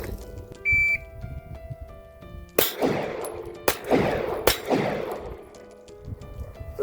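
Pistol shots on an outdoor range during an FBI qualification course in Tonopah, Arizona: a timer beep, then three or four sharp, loud cracks about a second apart, each followed by a rolling echo.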